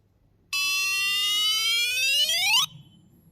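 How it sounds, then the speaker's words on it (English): One loud electronic beep from a wattmeter signalling successful installation, lasting about two seconds, its tone sliding steadily upward before cutting off abruptly, with quiet background before and after. "After about 20 seconds, you should hear a progressive beep in case of success."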